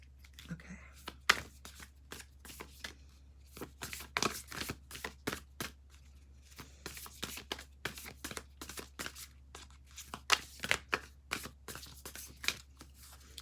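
Large tarot cards are shuffled by hand in a quick irregular series of crisp riffles and slaps, close and fairly loud against a quiet room with a low steady hum.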